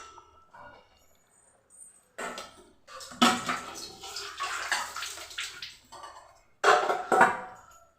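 Hot water drained off partly cooked rice for rice sevai: intermittent gushing pours and splashing, close and fairly loud, coming in several separate bursts with short pauses between them.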